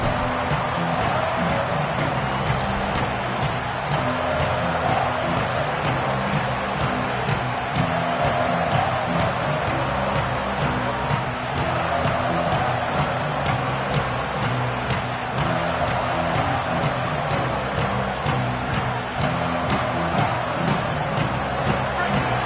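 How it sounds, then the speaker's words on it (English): A packed stadium crowd at a college-style football game roars continuously, loud and steady throughout, with a commentator's voice over the crowd noise. "This crowd bringing an ear-splitting welcome to their visitors."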